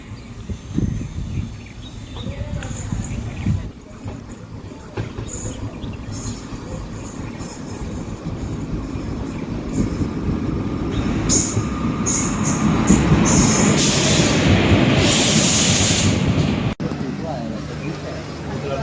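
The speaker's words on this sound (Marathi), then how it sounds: "फायनली आपण आता ट्रेनमध्ये चाललो आहे" A train from Veer to Kudal in the Konkan region rumbles steadily along the tracks, growing louder with metallic squeals and rattling, while people's voices are heard faintly amid the noise.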